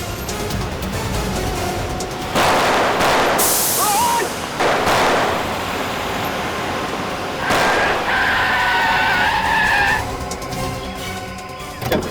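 A car speeds and skids in a Hindi CID crime drama scene, with loud rushing bursts of engine and impact noise and a sustained tyre screech near the end, all layered in a dense dramatic mix.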